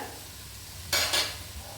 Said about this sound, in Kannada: ಈರುಳ್ಳಿ, ಹಸಿಮೆಣಸಿನ್ಕಾಯಿ ಬೇಯ್ತಾ ಇದೆ ಗೈಸ್.